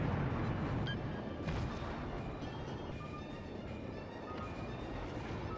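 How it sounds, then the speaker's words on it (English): Torpedo salvo launched from the destroyer Sampson in the World of Warships naval game, heard as dense, continuous rumbling boom with scattered sharp reports over a steady loud wash, no voices. "Firing torpedoes, Lieutenant James hopes to force the destroyer to steer away"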